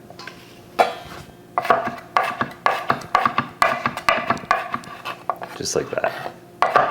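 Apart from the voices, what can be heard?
chopping garlic into small pieces with a knife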